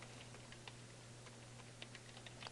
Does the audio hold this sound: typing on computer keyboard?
yes